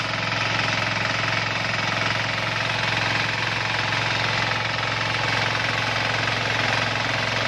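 A Sakura 188 diesel tiller forms soil beds, its engine hammering steadily and loudly up close with a dense knocking rumble and vibration that holds constant throughout, no voices.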